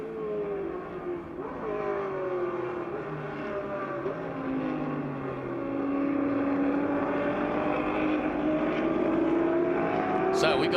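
A Shelby and a Ferrari race on track at a Petersen Car Week event, their engines roaring and whining as pitch sweeps up and down, with a commentator talking over the sound.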